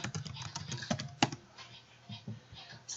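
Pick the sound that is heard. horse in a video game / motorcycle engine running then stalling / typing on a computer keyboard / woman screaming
typing on a computer keyboard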